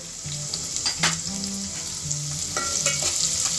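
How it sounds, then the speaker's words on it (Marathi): Onion sizzles and fries in hot oil in a pan, a steady bright crackling hiss with soft stirring scrapes and clinks near the microphone. "तेल तापल्यावर आपण त्यात कांदा घालू।"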